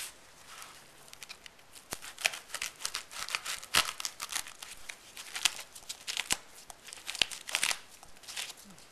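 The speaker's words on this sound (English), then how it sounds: "I think we'll go to the sharper knife. And I'm angle cutting." A sharper knife making angled cuts while carving a cultural object, heard as a faint, irregular series of crisp scraping and crinkling strokes, close and alone.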